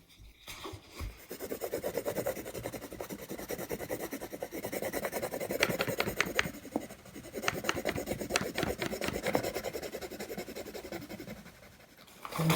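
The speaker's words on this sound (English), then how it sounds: "I've got another book cover here that I'm going to try and make a rubbing from" Steady rasping rub of a crayon or pencil across paper laid over a slightly raised book cover design showing chimneys, close and continuous with no talking.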